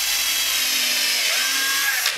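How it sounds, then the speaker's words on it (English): A power drill bores into a wooden chair rung, a steady high whine lasting about two seconds, close and loud with no talking. "What I haven't done yet is drill a hole."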